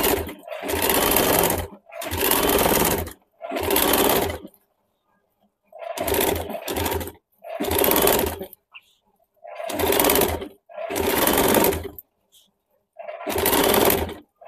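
A sewing machine stitches a blouse neckline in bursts of steady whirring, about nine runs each lasting one to two seconds with short silent pauses between, loud and close with no talk over it.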